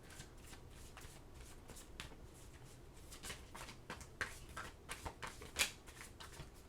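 Oracle cards shuffle in rapid, crisp riffling bursts, close and fairly faint, with sharper snaps of the deck toward the end.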